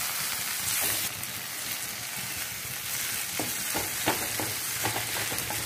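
Tomatoes frying in a pan with turmeric for an Indian ridge gourd curry, a steady close sizzle with scattered crackles and pops and soft stirring clicks, no voices.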